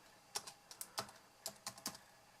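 Close, quiet taps on a computer keyboard, about a dozen quick, uneven keystrokes in short bursts with no voices.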